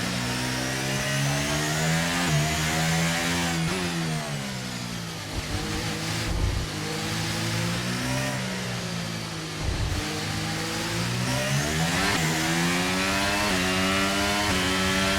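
Formula 1 car engine in F1 23 at Miami, revving hard through a deep corner with rising and falling pitch sweeps and gear changes, loud and continuous throughout.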